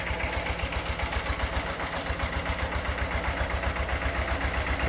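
Agri Globe 180 1105 mini tractor engines idle nearby in a steady, loud, rhythmic diesel chug with a low vibrating throb that carries on unbroken, with no one talking.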